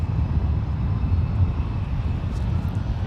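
A Lufthansa 454 Heavy airliner at San Francisco International Airport produces a steady, broad engine roar and rumble that holds evenly throughout, fairly loud with no voices.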